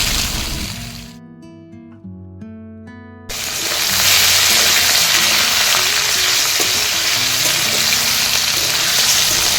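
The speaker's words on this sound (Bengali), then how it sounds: "আমি এখানে সাদা তেল দিয়ে কালো জিরে, 5 ফোড়ন আর শুকনো লঙ্কা দিয়ে আলুগুলো ভালোভাবে ভেজে নিয়ে" Potatoes fry in hot white oil with black cumin, five-spice and dry chillies in a wok, a loud continuous sizzle that surges after a brief quieter gap with a few tonal clinks.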